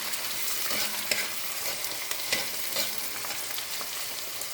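Seasoning for Jamaican steamed fish fries in a pan with thyme, a steady close sizzle broken by scraping stirs and small pops, no voices.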